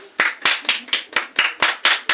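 An audience applauds a contest winner with about nine crisp, evenly spaced hand claps in a steady rhythm, loud and close, with no voices over them.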